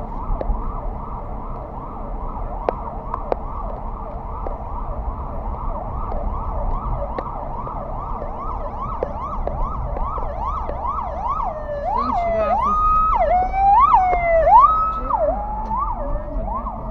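An ambulance on an emergency call sounds its siren in city traffic in Bucharest, a loud wailing and yelping tone that cycles steadily, close by and with no speech, over a low rumble of road traffic.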